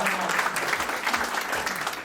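Audience applause at a small-satellite mission results presentation and space technology exhibition, steady dense clapping filling the room for about two seconds with no speech over it.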